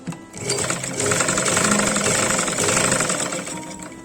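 A sewing machine stitches folded fabric for a skirt, running steadily with a fast mechanical rattle for about four seconds, close and loud with no talking.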